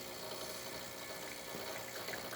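A Pasquini Livia 90 espresso machine pulls a double shot after a full tune-up, giving a steady, quiet pump hum with a soft trickle of liquid, close by and without talk.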